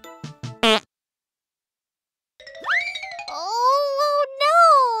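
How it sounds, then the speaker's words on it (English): A cartoon fart sound effect in a children's Baby Shark alphabet story blares as a long, wobbling, rising-and-falling squeal, loud and close, after a voice and a pause. "Someone's farting and running away!"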